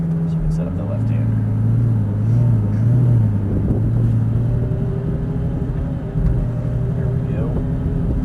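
A Lamborghini pulls away in first gear on an airport track, its engine a loud steady low drone heard from inside the car, rising slightly as it moves off, with someone talking over it.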